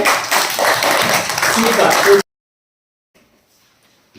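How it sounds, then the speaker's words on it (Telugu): A classroom of children claps together in a busy, loud patter for about two seconds, then it cuts off abruptly to near silence. "క్లాప్స్ కొట్టండి."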